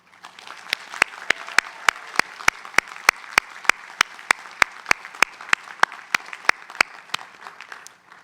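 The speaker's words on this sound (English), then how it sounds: "Please join me in a round of applause for your loved ones." Guests at the Tufts 2020 commencement ceremony applaud graduates' loved ones with a series of sharp, evenly spaced claps standing out above a softer spread of clapping. The sound is moderately loud and fades out at the end.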